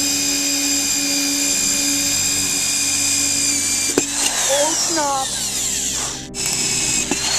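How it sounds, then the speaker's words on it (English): A power drill whines steadily with shifting pitch as it bites into a pair of shoes, and a voice exclaims briefly partway through. "We're drilling the shoes."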